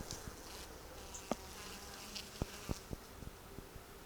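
Honey bees buzz faintly and steadily around a sugar water feeder that holds up to 2 cups, with a few soft taps and clicks against the feeder scattered through the drone.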